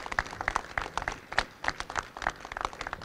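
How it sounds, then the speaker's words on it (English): A small group at a film news conference claps for actors William Fichtner and Kim Coates, sparse, distinct individual hand claps in an uneven rhythm, fairly quiet and close. "Let's give them a great big round of applause."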